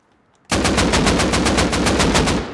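AK rifle fired in the online survival game Rust on console: a sharp onset into a rapid, evenly spaced burst of about a dozen loud automatic shots lasting around two seconds, close and unaccompanied by talk.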